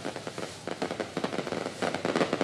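Fireworks and firecrackers at a late-night celebration by PML-N workers after their by-election win, a dense, steady run of crackling pops and bangs at middle distance.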